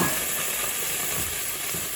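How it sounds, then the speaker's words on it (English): Loud, steady sizzling and hissing as water hits a hot pan of broccoli and turns to steam, continuous throughout with no voices. "that steam will just finish cooking that broccoli off really nicely"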